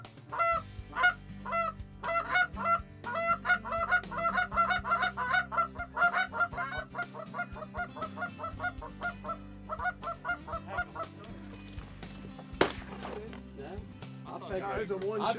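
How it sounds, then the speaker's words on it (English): Geese honking loudly and repeatedly during a waterfowl hunt on the Eastern Shore, a dense rhythmic chorus of calls carrying through most of the clip, likely including hunters' goose calls, with a sharp bang near the end. "calling those geese all morning"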